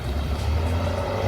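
A cheap replica Lamborghini with a four-speed manual gearbox drones along with a low, steady engine rumble, close and unbroken, with no voices.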